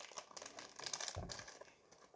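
Faint crinkling and tearing of a taped trading card pack, with a short rip near the middle, quiet and close.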